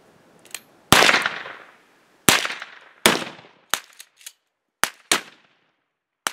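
Gunshots at a desert campsite, about eight sharp, loud reports at irregular intervals, with the early ones ringing out in longer decaying echoes and the later ones shorter.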